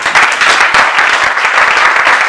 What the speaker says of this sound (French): sous vos acclamations, je vais leur demander de se lever en acclamant